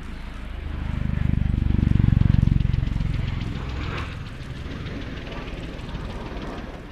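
A special operations tiltrotor aircraft, capable of air-to-air refueling, flies in conventional aircraft mode, giving a loud, deep rumbling drone that swells to a peak then settles into a steady, slightly weaker roar.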